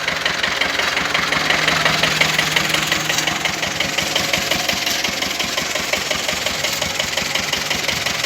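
A homemade tractor's small engine idles steadily with a rapid, even knocking rhythm, close and fairly loud, with no voices.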